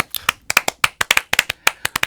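Sharp, close hand claps in an uneven rhythm during a Korean Catholic morning radio broadcast, about a dozen crisp dry claps in quick succession with no voices over them.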